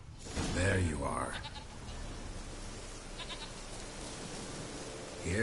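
Goat bleating in The Witcher video game, a short nasal bleat near the start followed by faint, brief calls against steady game ambience, with someone talking over part of it.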